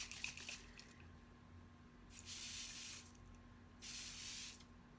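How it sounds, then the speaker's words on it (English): Two short hissing bursts of a fine mist spray, each lasting about half a second, soft and close against a quiet background. "spray your face and feel refreshed"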